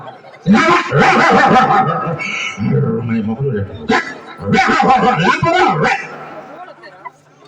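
A voice imitates a pack of barking village dogs, loud and close, in rapid yaps and growls broken by short pauses.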